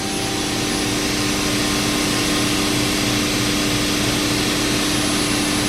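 BostoMatic CNC machining center running at about 1,000 RPM, a loud, steady mechanical whir with constant tonal hum and broadband noise, unbroken and close throughout.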